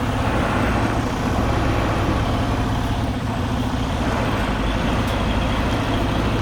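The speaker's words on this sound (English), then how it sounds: "So start backing it up, keep my wheels straight." A truck backs slowly into a space, its engine a loud, steady low rumble throughout with a faint hiss of air near the end.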